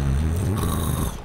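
A truck driver snores while sleeping in the cab in the Truck Mechanic Dangerous Paths video game: one loud, close, rumbling snore that fades out at the end.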